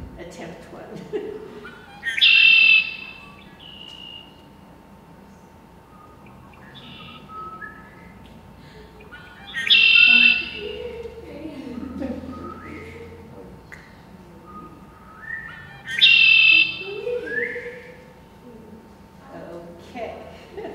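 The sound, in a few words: red-winged blackbird song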